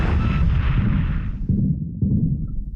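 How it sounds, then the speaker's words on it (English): Heavy, rumbling torpedo impacts against the Japanese battleship Haruna in the naval war game Allies: a loud roaring blast that fades, followed by two further deep booming hits, with no talk. "2 torpedoes into the Haruna."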